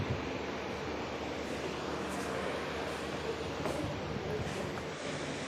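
Steady rumbling rail noise from inside a moving express train between Coimbatore and Palakkad, continuous and fairly loud, with a broad windy hiss and no clear voices.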